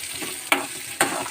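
Green chillies fry in hot oil, giving a continuous crackling sizzle broken by two sharp bursts of stirring, close by with no voices.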